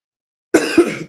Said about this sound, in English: as soon as I get to talking, this cough gets to acting up.